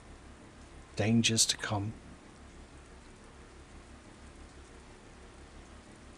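Steady rainfall in the SWG Legends game world, a soft continuous hiss of rain in the background throughout, with someone talking briefly over it near the start.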